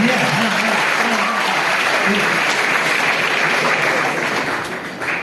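Steady, dense applause from an audience at a Hindi poetry recital, loud and sustained with no gaps, and some faint crowd murmur beneath the clapping.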